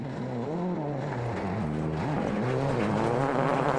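A 2007 WRC rally car spins on stage 13, its engine revving hard and wavering up and down in pitch as the car slides, loud and close throughout.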